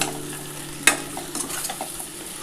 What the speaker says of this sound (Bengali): এবার ভালো করে কিন্তু কষাতে হবে মশলাটা